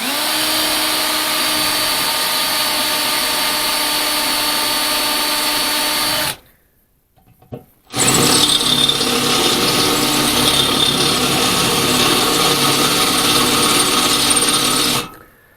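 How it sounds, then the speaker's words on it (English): A power drill grinds through fender bracket fasteners in two long, loud, continuous runs, broken by a brief pause with a small knock in the middle, then stopping at the end. "let me finish drilling these out"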